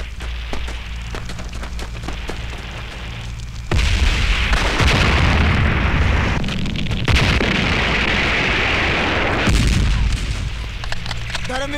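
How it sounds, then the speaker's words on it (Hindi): Heavy covering gunfire and explosions roar in a war film battle, sustained loud bursts and booms that swell into dense blasts and continue in waves. "कवरिंग फायर मार।"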